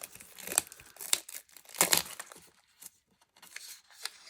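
A sealed roll of scented gift wrap in cellophane is handled and opened with a series of close, sharp crinkles and tearing rustles in irregular bursts, fading to sparse small crackles toward the end.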